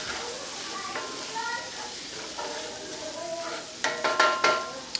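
Onions sauté in butter in a pan on an electric stove with the heat turned up, making a steady, gentle sizzle that builds into a few louder crackling bursts near the end.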